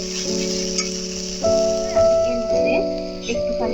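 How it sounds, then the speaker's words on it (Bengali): Potol dolma filling sautéing in a pan, a soft sizzle with intermittent scraping and stirring knocks, heard close under sustained background music and a voice speaking. "ভালো করে কষাতে হবে কাঁচা হ্যাঁ"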